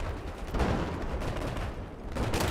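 Sustained gunfire in a Battlefield 4 firefight, a dense, continuous rattle of shots with heavier bursts near the start and end, loud and close with no talking.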